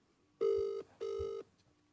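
Telephone ringback sounding during a prank phone call: two clear, evenly spaced electronic rings, each about half a second long with a short gap between them, loud and close with no talk.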